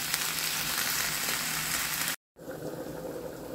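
Onion fries in a pan for chicken quesadillas, a dense, loud, close hiss and crackle that holds steady, cuts out for a moment, then returns slightly quieter.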